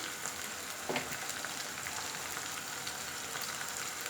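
Garlic and ginger fry in a pan as turmeric powder goes in, giving a quiet, steady sizzle with faint crackles and one small clatter early on, with no talking.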